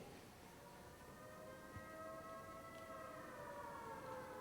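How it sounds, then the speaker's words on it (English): An attack warning siren sounds a wailing, undulating tone, rising and falling as layered steady pitches over faint background noise, fairly distant and alone. "It is a wailing, undulating tone on the siren for a duration of 3 to 6 minutes."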